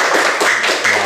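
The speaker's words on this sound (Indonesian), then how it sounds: "Beri tepuk tangan dulu terhadap kelompok Abu Bakar ya" A classroom of sixth-grade students claps for a group's presentation in an Islamic religious education lesson, a short burst of dense, steady applause close by, with no talking over it.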